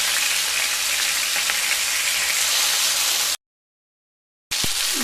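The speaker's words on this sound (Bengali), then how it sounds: "একটা সাইড ভাজা হয়ে গেলে উল্টে দেব।" Pomfret fish fry on the second side in oil, making a dense, close sizzle that runs steadily, cuts out to silence for about a second, then resumes.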